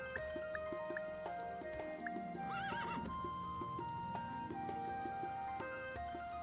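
Horse whinnying with a rising, warbling neigh mid-clip, set over steady clip-clop hoofbeats and soft dripping in the farming game Starsand Island, all against continuous background music.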